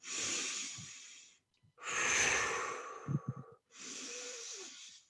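Three long, deep breaths in a guided breathing exercise, each a loud, close airy rush separated by brief pauses, with a few soft puffs at the end of the middle breath.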